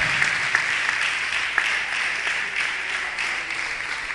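Strong applause from a church congregation at an evangelistic service, a dense steady roar of many hands clapping throughout, loud and close with no talk over it.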